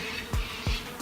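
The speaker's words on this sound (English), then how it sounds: "there's still some bees up there trying to chew away on what's left of the old valve" Bees buzz around an old bee valve set in a brick wall, a faint steady insect hum with two brief close passes as individual bees fly by.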